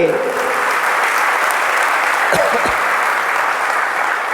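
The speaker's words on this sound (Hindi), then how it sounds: "ऐसी ताली आज बजाओ" Gathering at a Jain monk's sermon in Ghatol, Rajasthan, clapping in a loud, continuous, dense wash that barely varies, with a voice faintly audible underneath.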